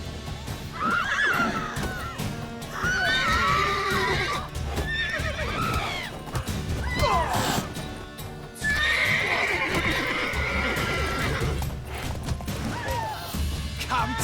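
Repeated horse whinnies and neighs in The Witcher 3: Wild Hunt ring out over clip-clopping hooves and busy game sound effects, loud and close throughout.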